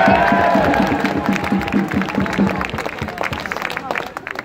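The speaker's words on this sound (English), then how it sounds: "Give COVID a clap!" A rally crowd outdoors claps in a quick rhythmic burst, then breaks into looser cheering and applause, moderately loud with voices mixed in.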